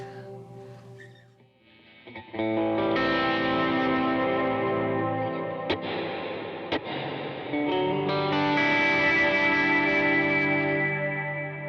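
Sustained, layered electric guitar notes ring out with a reverb effect turned down, so each note sounds clear before a softer wash of ambience follows; the tone is steady and loud, with a couple of sharp clicks and no talking.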